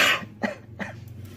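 Coughing from a man: three close coughs, a harsh first burst followed by two shorter ones, with nothing else over them.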